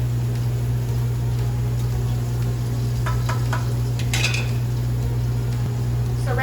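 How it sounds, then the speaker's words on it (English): Jasmine rice being browned in a pan gives a steady, moderately loud sizzle with a constant low hum beneath it. Occasional light scrapes and clinks of a utensil stirring come through near the end. "I'm just browning the rice a bit to give it more flavor."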